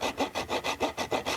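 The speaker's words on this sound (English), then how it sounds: "I'm slightly angling the saw up" A hand saw cuts through wood at an angle in steady back-and-forth strokes, about seven rhythmic rasping passes, close and clear with no talking.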